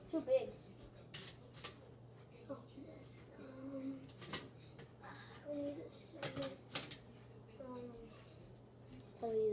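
A spoon scrapes and clinks against a dish while homemade slime of water, soap and sugar is mixed, giving scattered short taps and scrapes, with occasional voices and faint background sounds in the room.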